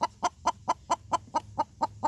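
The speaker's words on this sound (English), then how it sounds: "This one making noise right now, she is the biggest chicken." A hen clucking being put in for the night, about ten evenly spaced sharp clucks in quick rhythm, close and clear with little else around.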